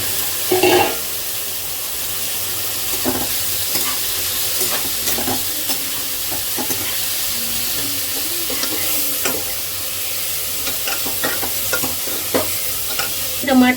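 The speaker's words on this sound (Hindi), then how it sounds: "टमाटर और प्याज को अच्छे से भून लेंगे" Chopped tomatoes and onions sizzling in a pan on a home stove, a steady hiss broken by scraping stirs and clinks of a spatula, close and fairly loud with no voices.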